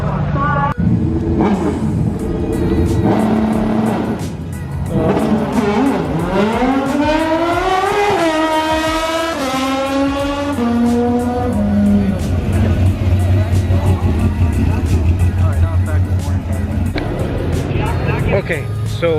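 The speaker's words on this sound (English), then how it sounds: "Not all the cars, but there's some cars that they're stupid loud." Drag racing cars at Irwindale Speedway scream loudly as engines rev and climb through gears, a long rising wail that falls off, with crowd voices talking throughout.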